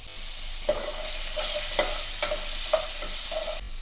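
Pieces of sweet pumpkin fry in hot oil in a pan, giving a continuous soft sizzle broken by several sharp taps and scrapes of a utensil stirring, with no one talking.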